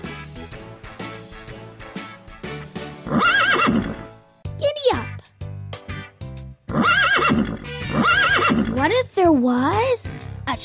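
Cartoon horse sounds from a Daniel Tiger game: several loud, close whinnies with wavering, rising-and-falling pitch, set over rhythmic clip-clop hoofbeats and playful background tones, with short quiet gaps between bursts.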